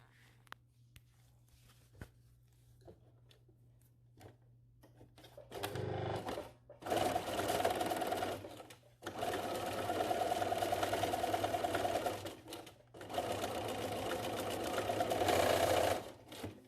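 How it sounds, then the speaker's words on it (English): A serger sewing machine stitches a fabric mask in several loud, buzzing bursts, separated by short pauses, after a quiet stretch of faint handling noises at the start. "I just went over the same stitches, so over the serger."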